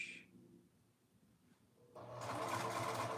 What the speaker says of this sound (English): Back stitching. Back stitch. Forward stitch.